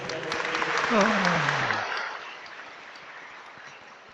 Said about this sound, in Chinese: 各位请给秀一些点掌声。